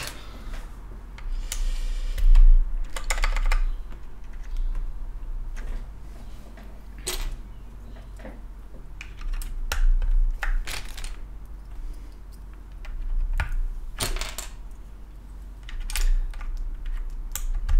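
Keycaps are pressed onto a KBD8X mechanical keyboard, giving a scattered series of sharp plastic clicks and snaps at irregular intervals, close and fairly quiet against a soft background.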